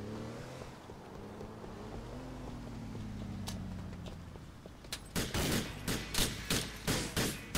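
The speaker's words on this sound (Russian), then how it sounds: "Кто стреляет?" Rapid bursts of gunfire in GTA IV break out after a quiet stretch of engine and ambient hum, coming as a string of loud, close, sharp cracks in quick succession.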